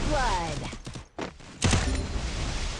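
Rapid gunfire bursts from the Free Fire mobile shooter game crackle close and loud in short volleys, mixed with excited voices talking over the game audio.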